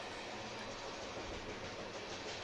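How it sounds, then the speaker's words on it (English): An IAIS freight train led by a pair of GEVO locomotives passes westbound through West Liberty, a dense continuous rumble and rail roar filling the whole stretch without pause. "this is the daily Blue Island to Council Bluffs train going west through West Liberty"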